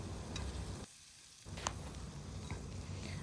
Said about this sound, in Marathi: मसाला जोपर्यंत तेल सोडत नाही तोपर्यंत मसाला तेलावर परतून घ्यायचा आहे